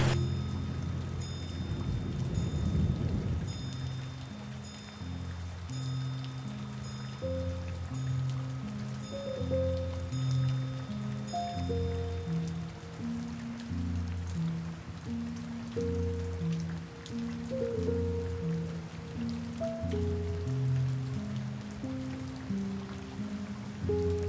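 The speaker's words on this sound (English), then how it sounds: "listen to the drips and drops of rain through the pergola hitting the terrace" Rain drips and drops through a pergola onto a terrace during a thunderstorm, a steady close patter of drops over a soft hiss, with low tonal sounds running underneath throughout.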